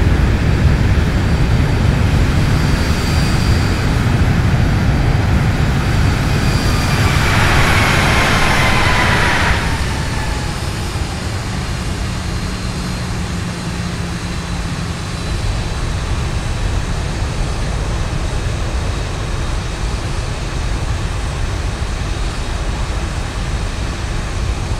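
A fixed-wing airplane's engines drone steadily during a landing, a loud, constant roar that eases slightly partway through and then holds, with no talking.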